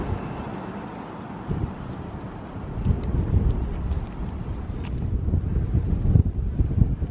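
Wind gusts buffet the microphone on an exposed hillside at Whipsnade Zoo. A steady low roar swells and surges throughout, with faint distant sounds under it.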